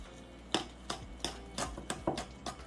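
A utensil knocks and scrapes against a bowl while waffle batter is mixed: about eight distinct clacking strikes in a loose, steady rhythm, close and fairly crisp, with no speech.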